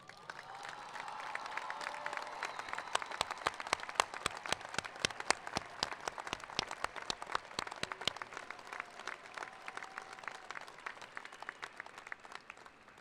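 A large audience at the Eckerd College 2018 commencement claps in a steady, sustained round of applause, moderately distant and even, with many individual claps audible throughout.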